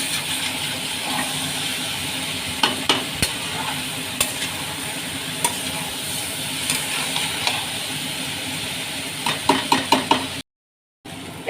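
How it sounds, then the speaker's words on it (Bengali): Chow mein noodles with vegetables stir-frying in a pan, a steady sizzle broken by repeated clacking spatula strikes against the pan, clustered near the end before a brief cut to silence. "খুব ভালো করে ভাজা ভাজা করে নেবো"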